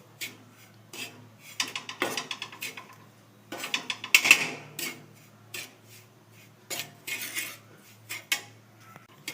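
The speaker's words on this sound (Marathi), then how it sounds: "आता बघा एका साधारणतः 2 मिनिट झाला मी भाजतोय" A metal spoon scrapes and clinks against a pan while ragi flour is roasted with ghee, irregular bursts of stirring and tapping close by, with no voices.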